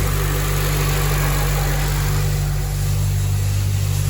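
An 8th generation Honda Civic engine idling with a newly fitted, very tight belt, a loud, steady close-up drone with a constant low hum and a faint whine, unbroken throughout, with no talking.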